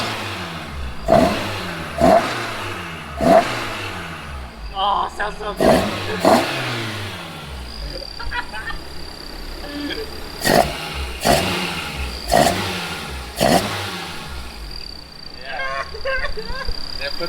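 A Toyota AE86 engine revs repeatedly in sharp, loud bursts with idling between them, while a person speaks briefly.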